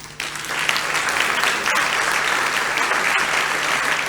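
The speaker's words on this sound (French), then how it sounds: "Je pense qu'on peut les applaudir." Audience applause for award nominees at a tourism startup contest and social media awards event, a loud, sustained wash of clapping that starts abruptly and keeps steady throughout.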